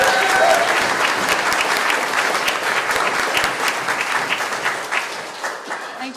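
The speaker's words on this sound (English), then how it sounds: "the whole entire community deserves a giant round of applause" A community audience applauds at the Weymouth Falls Lieutenant Governor's Community Spirit Award ceremony, with dense, steady clapping that holds loud for about six seconds and eases slightly at the end.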